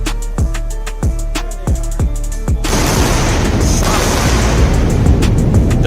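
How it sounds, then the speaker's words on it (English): Returning rocket boosters send down sonic booms: a string of sharp, loud, evenly spaced thuds, then a sudden sustained roar of broadband rumble that stays heavy to the end. "Double sonic booms."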